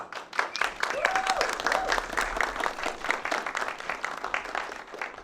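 Audience applause after a film shorts panel discussion, steady dense clapping at moderate level across the whole stretch, with a few faint voices and whoops mixed in.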